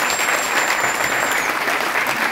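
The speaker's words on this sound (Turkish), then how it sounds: "Ona da kocaman bir alkış." A theatre audience at an improv festival in İzmir gives loud, full, continuous applause that holds steady throughout.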